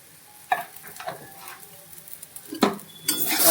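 A spoon stirs pumpkin curry with chili powder in a pan, giving a few distinct scraping clatters against the metal over a soft sizzle, loud and close, with no talking.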